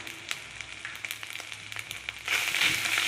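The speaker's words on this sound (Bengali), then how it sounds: "জাস্ট একটু নাড়াচাড়া করে নিই" Spices, ginger paste, turmeric and sugar sizzle in a frying pan while being stirred, with soft scraping clicks over a steady crackle that swells louder near the end; no voices.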